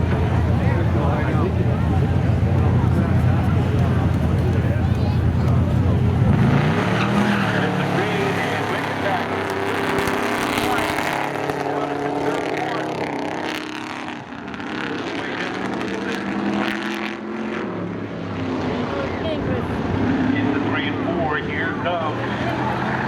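A Ford F2 and a Camaro drag race at Seekonk Speedway, with loud roaring engines and tire squeal passing close, under an announcer's voice over the track PA.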